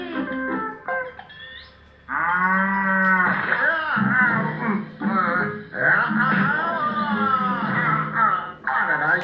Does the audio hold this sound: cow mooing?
yes